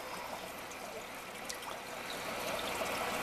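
Water trickles and drips steadily through a homemade Bio/Max aquarium filter, a continuous close splashing patter that grows a little fuller toward the end, with no voices.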